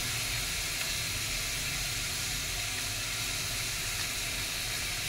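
Garlic paste sizzles in a hot pan for an aloo chop filling, a loud, steady hissing fry that carries on evenly without a break.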